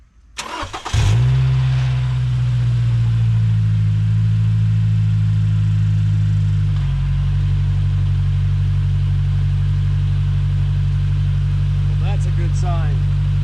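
A 2014 Scion tC project car with clutch and transmission work cranks and catches. It settles into a loud, steady idle that runs on at close range, with brief voices near the end.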